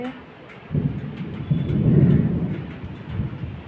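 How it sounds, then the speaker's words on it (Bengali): A low, rolling rumble of thunder swells and fades over a few seconds, with a soft hiss of rain in the background. "মেঘ ডাকছে কেমন।"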